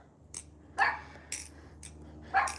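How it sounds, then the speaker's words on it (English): A dog barks in short, separate bursts, four or five sharp barks spaced irregularly, moderately close in an otherwise quiet setting. "She's barking at someone."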